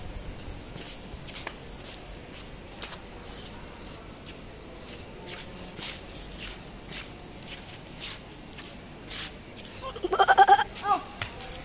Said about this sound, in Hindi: ये बकरों की आवाज़ें आ रही हैं जब निकल रहा है।